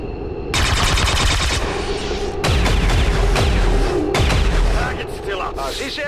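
Reaction-shot gunfire in the video game XCOM 2 War of the Chosen: loud, close bursts of rapid automatic fire and booming shots in several volleys, echoing between blasts.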